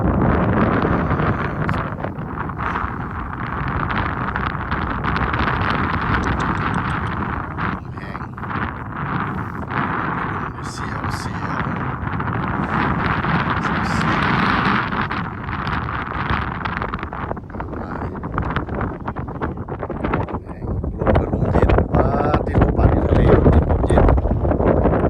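Dry wind on Hua Lon mountain top in Xaysomboun buffets the microphone with a steady, loud, rumbling roar that carries on without a break for the whole stretch.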